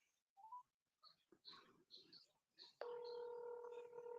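A telephone rings through a speakerphone: after a few seconds of people talking, a steady, sustained ringing tone starts abruptly and holds to the end, moderately loud.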